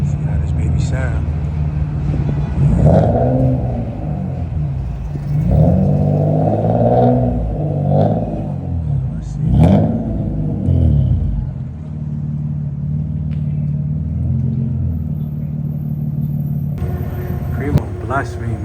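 A car engine fitted with a new flex pipe blips through three strong revs in quick succession, each a loud rumbling surge that falls back to a steady idle, which then settles for a long stretch.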